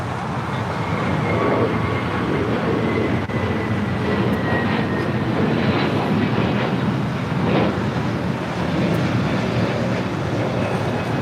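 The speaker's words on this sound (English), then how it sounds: "American Airlines flight 2002 coming in from Vegas." An American Airlines jet arriving from Las Vegas produces a steady, loud broadband engine rumble and whine that holds evenly throughout, heard from an airport vantage point.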